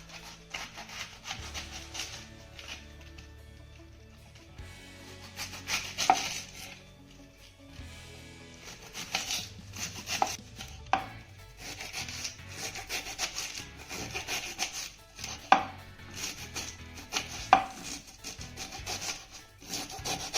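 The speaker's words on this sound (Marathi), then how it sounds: "आता हा राहिलेला कोबी आपल्याला बारीक असा चिरून घ्यायचा आहे" A knife finely chops cabbage on a board in a home kitchen, with quiet, irregular scraping and cutting strokes, some sharper taps standing out, fairly faint and with no talk.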